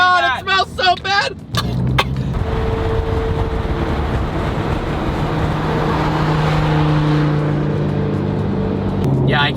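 A McLaren P1 in race mode drives on the road, a loud steady low engine drone and hum filling the car cabin after a burst of excited voices at the start.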